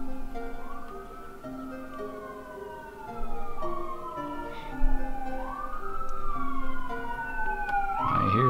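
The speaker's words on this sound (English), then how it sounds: "Sirens." Emergency vehicle siren wailing in rising and falling sweeps, steady and fairly loud throughout, with a second tone layered in and no talking.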